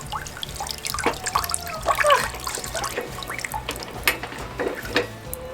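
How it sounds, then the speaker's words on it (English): Water draining and trickling from laundry as it is cranked through a hand-crank wringer for off-grid washing, with steady dripping and splashing close by and no talk. "Look at all that water coming out."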